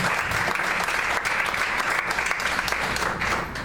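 A church congregation claps together in a sustained, dense round of applause that fills the room evenly, with no voices over it.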